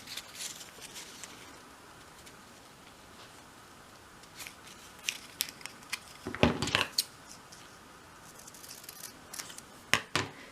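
Scissors snip through a thin paper strip, trimming the cover to size for a dolls house diary, with a few crisp close cuts bunched in the middle and near the end over a quiet background.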